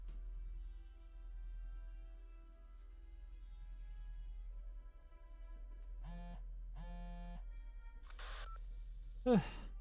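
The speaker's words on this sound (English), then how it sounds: "I get a phone call." A telephone rings in two short electronic bursts, fairly clear against a low steady hum, followed by a brief rustle as it is picked up.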